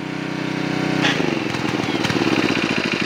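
A Generac 750 watt portable generator runs steadily after a long warm-up, its small engine throbbing in a continuous rough drone that shifts pitch slightly partway through, close and loud, with no voices.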